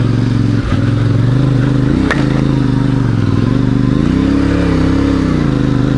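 A CFMOTO 450 MT motorcycle engine holds a loud, steady drone while climbing a rough, rocky trail, its pitch rising and falling, with a couple of sharp knocks and clatters from the terrain.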